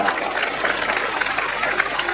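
A congregation at a Christmas sermon claps together in a steady, moderately loud patter that fills the hall and keeps an even pace throughout.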